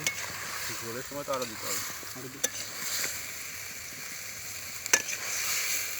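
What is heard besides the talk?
potatoes and meat sautéing in spices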